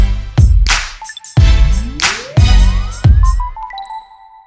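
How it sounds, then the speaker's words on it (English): A phone plays a ringtone or alert of repeated chimes and pings, several bursts with rising tones, loud and close in a quiet setting. "And then my phone went off again and again and again."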